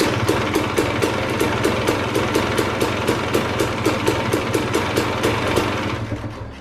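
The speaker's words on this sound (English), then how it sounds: "so it's idling quite nicely now." A motorbike engine with a Keihin 38 PWK carburetor idles steadily with a rhythmic, even putter, loud and close, running alone before easing off slightly at the end.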